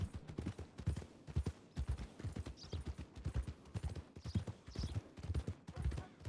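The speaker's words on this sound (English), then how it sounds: "now I am dealing with a horse that is untrained and it is very noisy" An untrained horse in a video game clip-clops steadily, with rapid, even hoof beats close and fairly loud throughout, plus faint higher sounds mixed in.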